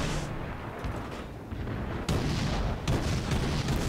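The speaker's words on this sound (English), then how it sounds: "my anti-air is still doing shooting." Rapid heavy anti-aircraft gunfire from a ship in World of Warships, with several sharp booming bursts over a continuous roar of battle noise, loud and close.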